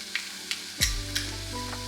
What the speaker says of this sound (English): I just like to toast the nutritional yeast